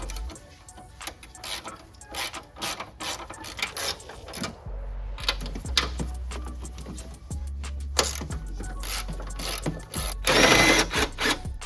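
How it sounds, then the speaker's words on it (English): Hand ratchet loosens the three strut top nuts on a Nissan 350Z, a close, rapid series of clicking bursts with short pauses between strokes. "you're going to want to remove the 3 nuts that hold in the strut from the top"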